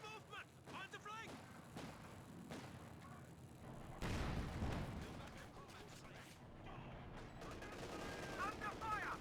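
Bursts of gunfire and explosions ring out in a Company of Heroes 2 battle, with rattling rifle and machine-gun volleys and a heavy blast midway, under scattered game voice callouts and background rumble.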